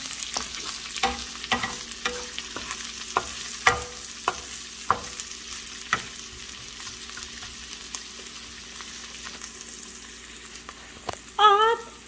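Onions frying in a pan during a morning home-cooking session, a soft steady sizzle broken by a series of sharp scraping stirs, with a louder clatter near the end.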